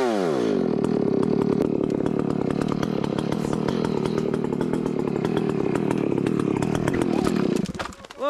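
A chainsaw engine runs rough while warming up in wet winter weather, a close, loud, ragged two-stroke snarl that wavers unevenly and then cuts off abruptly near the end.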